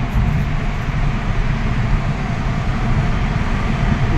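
Traffic moving through the Mumbai undersea tunnel produces a constant, dense roar with rumbling low tones and a steady hiss that fills the whole stretch.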